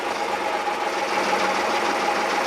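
Inboard diesel engine of a Fisher 30 boat idling low and steady, a continuous close rumble with a faint knocking pulse and a steady whine, no talk.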